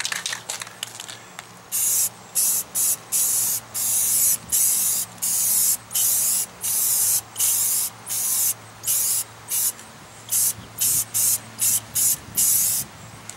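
Clear coat sprayed from an aerosol can onto restored car headlights in light coats, in a quick series of short, close hissing bursts with brief gaps, over a faint steady hum.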